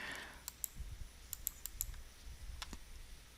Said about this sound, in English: I'm going to click over here.